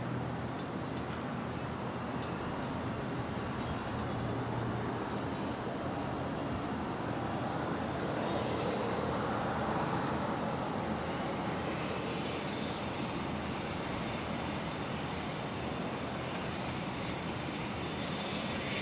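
A Dash 8 turboprop starts up at Brisbane Airport, a steady broadband engine roar with a slowly rising whine that holds evenly for the whole stretch, heard from some distance.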